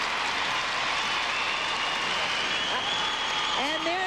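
An arena audience at a figure skating competition gives a sustained standing ovation, a dense wash of applause and cheering that fills the space, with a commentator's voice briefly audible over it.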